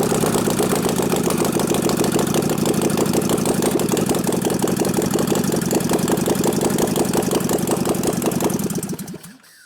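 A 1989 Harley-Davidson 93ci Panhead stroker motor in a Softail turns over and rumbles steadily on its starter for about nine seconds, loud and close, with a pulsing mechanical chug that cuts off abruptly at the end.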